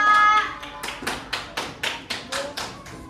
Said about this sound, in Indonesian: Tepuk tangan buat kamu, Aksa.